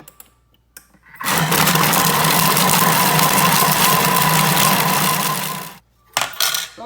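A Thermomix running at speed 5 chops 500 g of chicken breast pieces in its closed bowl, a loud steady whirring roar that starts abruptly, holds for about four and a half seconds, then cuts off, followed by brief clatter.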